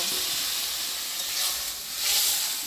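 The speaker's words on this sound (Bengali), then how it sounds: "এই যে আমি মিনিট 5 ভেজে নিয়েছি। এখন জল দিয়ে দেব।" Pumpkin frying in a pan hisses and sizzles steadily up close, swelling in a loud burst of steamy spitting as water hits the hot oil, with no one talking.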